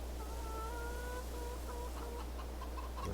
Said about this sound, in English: see if the chickens need a little feed